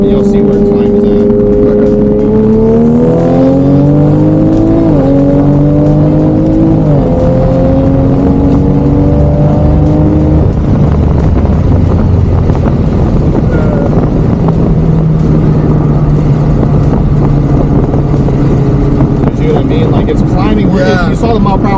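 Big-turbo Toyota Supra accelerating hard at full throttle, heard from inside the car: engine drone rises steadily in pitch through several gear pulls, with wind noise throughout and some talk underneath.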